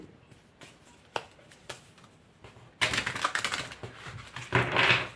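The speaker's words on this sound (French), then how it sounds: "On va tirer les cartes de tarot." Tarot cards being drawn and handled, with sparse crisp clicks and flicks at first, then a denser run of close, rustling card-shuffling snaps, with no talk.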